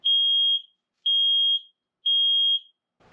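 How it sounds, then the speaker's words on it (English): A combination smoke and carbon monoxide alarm sounds three loud, shrill beeps, each about half a second long, evenly spaced about a second apart, inside a camper van. "install this smoke detector and carbon monoxide detector"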